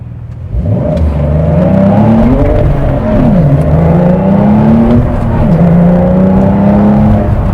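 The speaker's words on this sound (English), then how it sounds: "Oh, hear that rev matching right here." A 2024 Porsche 911 GTS with a manual gearbox rev-matches on downshifts, its loud engine note climbing and dipping in quick blips before settling into a steady drone, heard close with no talking.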